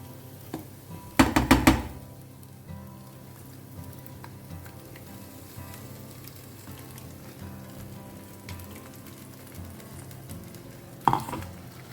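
Goan prawn balchao sizzling in a pan on medium flame after vinegar is added, with a loud clatter of stirring early on, then a steady soft fry and a short scrape near the end.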